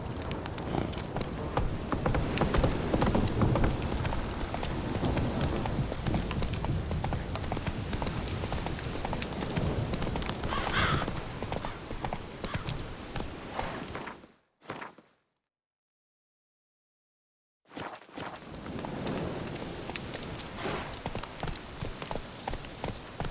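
Hooves of the horse Roach clip-clop steadily on ground in The Witcher 3, a continuous rhythmic trot broken by a few seconds of silence before resuming.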